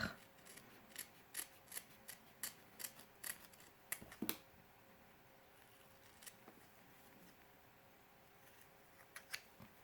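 Scissors snipping through fabric along a seam while assembling a quiet book page, with about a dozen quick, crisp cuts in a steady rhythm, then a few sparser snips, close and clear.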